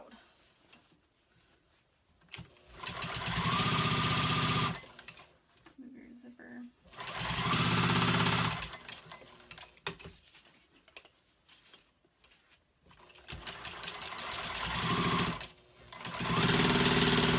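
A Juki 2000 QI sewing machine stitches a lining piece onto top pieces, running in three long loud bursts separated by pauses, with brief talk in the gaps.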